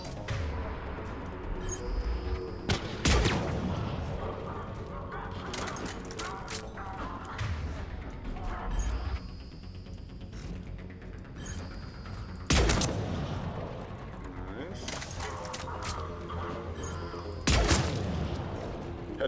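Heavy gunfire and explosive booms in the action game Mass Effect 3, loud bursts recurring every few seconds over continuous battle noise, with a voice speaking in between.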